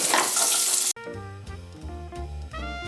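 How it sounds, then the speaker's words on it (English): Cut potatoes hit a heated, oiled cast iron skillet with a loud, hissing sizzle lasting under a second, which cuts off abruptly as music takes over. "I'm just going to put my cut up potatoes in my heated, oiled cast iron skillet"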